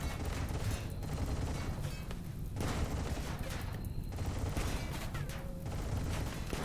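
Dense, continuous volleys of automatic gunfire from a RimWorld battle against Warhammer 40,000 Ork camp raiders roll on without pause, loud and busy, with no talk over them.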